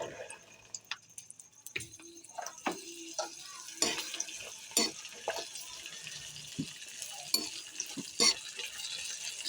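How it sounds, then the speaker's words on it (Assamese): Green chillies are poured into a pan and stirred for pickle, with scattered close clicks, scrapes and taps of a spoon against the pan in an otherwise quiet kitchen. "এতিয়া জলকীয়াখিনি মই ইয়াত ঢালি দিম।"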